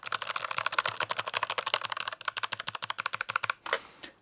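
Fast, steady typing on a slim mechanical keyboard with Cherry Red switches, bright crisp clicks in quick rhythmic bursts, a brief pause near the end followed by a louder clatter, close up with no talk.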